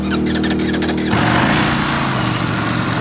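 A Lamborghini V4 motorcycle at a track school, its exhaust in need of repair, drones loud and steady close by, rising into a harsher, broadband roar partway through, with no talk.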